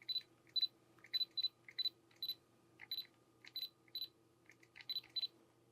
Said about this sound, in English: listen to that shutter.